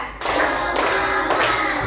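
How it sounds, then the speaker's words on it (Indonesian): Fifth-grade primary schoolchildren in a classroom clap in unison on cue, three sharp, loud group claps spaced about half a second apart over a steady room background. "Ibu mau dengar tepuk dulu"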